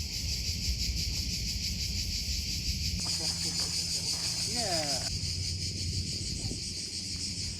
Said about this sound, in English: thousands of unseen cicadas who provided an eerie sci-fi soundtrack